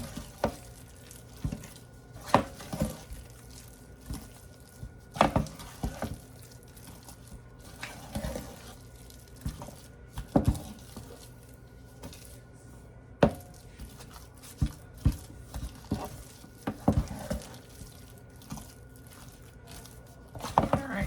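Potato salad is stirred in a bowl, producing quiet wet squishing and scraping strokes that recur at irregular intervals over a long stretch, close to the microphone.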